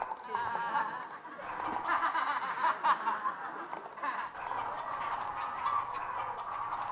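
A person imitating a chicken with a string of clucking, gobbling vocal noises, mixed with snickering laughter from others nearby, moderately close.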